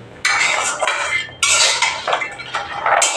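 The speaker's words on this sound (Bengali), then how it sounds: "পরিমাণ মতো একটু ঘি দিয়ে বাদাম, আখরোট, থাই বাদাম এবং কি কাজু বাদামগুলো এগুলা হালকা হালকা আছে ভেজে নিচ্ছে।" A utensil scraping and clinking against a pan as almonds, walnuts and cashews are lightly fried in a little ghee, in several loud bursts separated by brief pauses.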